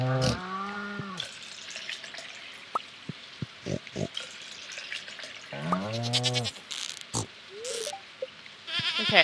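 Goats bleat in the farming game Stardew Valley, with several wavering, harmonic-rich calls close up at the start and again midway, separated by short clicks and soft game effects.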